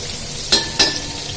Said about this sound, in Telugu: తర్వాత ఆనియన్ అయితే వేసేసుకున్నా. ఆనియన్ అయితే మంచిగా ఫ్రై కావాలన్నమాట.